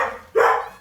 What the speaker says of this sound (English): It made him bark again